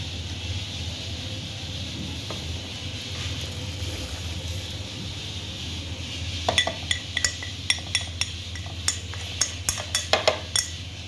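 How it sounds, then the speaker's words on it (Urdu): A metal utensil works spices and onion into minced mutton in a pan: a quiet stretch of low hum and hiss, then a run of sharp, close clinks and scrapes against the pan, growing quicker toward the end, with no talking. "ابھی میں نے تمام مسالے جو ہیں وہ قیمے میں نے مکس کر دیے ہیں"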